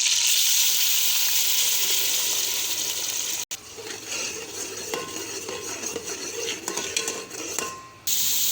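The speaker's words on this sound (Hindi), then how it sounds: "अब इसमें हम डाल देंगे जो पेस्ट हमने बनाया था टमाटर और प्याज का।" Tomato and onion paste hitting a frying pan with cumin, a loud close sizzle that drops after a sharp clatter, then spatula scrapes and utensil clinks over softer frying.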